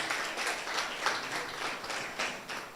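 Sustained applause from a graduation audience honoring the graduates' parents, dense steady clapping filling the room for a few seconds at a moderate distance, with no voices standing out.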